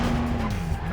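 A race car's tires squeal in a handbrake skid in a PS2 racing game, one sustained screech with a steady engine drone beneath, loud and close throughout.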